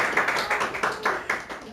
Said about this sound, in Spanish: ¿Cuántos le dan un aplauso al Señor en esta mañana?